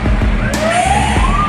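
A police car siren wails along a busy Divisoria street, its rising tone sweeping upward loud and close over steady traffic rumble, with no talking.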